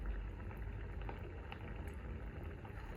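Potato cutlets sizzle in hot oil in a pan over medium heat, a steady dense crackle and hiss of frying that stays close and even for the whole stretch with no talk.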